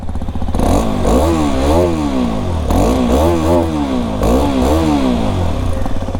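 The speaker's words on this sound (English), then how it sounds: "This is the best exhaust sound from Hero yet." A Hero Xpulse 210 motorcycle exhaust is revved up three times in quick blips, each rising and falling in pitch over a steady idle, loud and close by.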